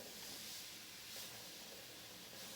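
Steady, soft hiss of steam rising from a wet cloth while a fire-damaged Iceman guitar neck is heated for truss rod repair, continuous and faint with no speech.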